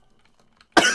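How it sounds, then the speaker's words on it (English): A single sharp, close cough bursts out abruptly after near silence, loud and brief, from a person playing the indie horror game The Outhouse. "I sucked that much air and it made me cough"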